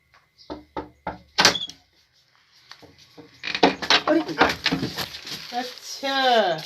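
Three sharp knocks on a wooden door ring out alone, followed by a louder thump, then muffled voices and talk build up close by as the door opens.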